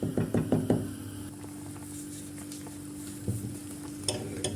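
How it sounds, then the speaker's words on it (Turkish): Soup being stirred in a pot, a quick run of close spoon knocks and scrapes against the pot at the start, then a low steady hum with a couple of faint clinks later. "Şöyle bir karıştırıyorum."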